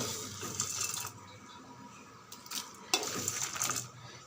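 Roasted gram being stirred and sautéed in a pan while making a coconut spice powder, with dry scraping and rustling in bursts and a faint frying hiss; no talking.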